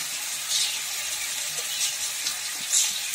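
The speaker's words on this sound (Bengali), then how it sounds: "আদা বাটা দিলাম, আদা বাটা দিলাম" Ginger paste sizzles in a hot frying pan, a loud, steady hiss of frying with small bursts of spattering and no voices.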